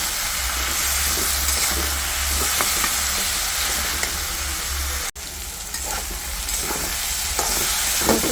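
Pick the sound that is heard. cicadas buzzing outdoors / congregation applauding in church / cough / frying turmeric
frying turmeric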